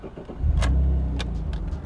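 An Alfa Romeo GTV cranks and its engine catches, settling into a close, low steady idle, with a few sharp clicks from the ignition and keys, and no talking.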